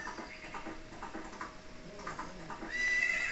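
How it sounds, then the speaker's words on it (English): A riderless horse whinnies and neighs in a Zelda video game, with faint clip-clop of hooves running underneath. The calls are soft and repeated, and a brief thin tone rises near the end. "A pony is, like, riding by herself."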